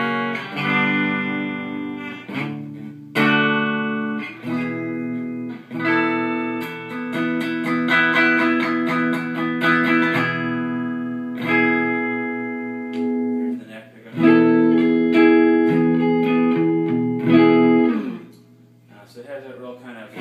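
A clean electric guitar with a P90 pickup plays bright, ringing chords and single notes, loud and close, with sustained tones and brief pauses between phrases.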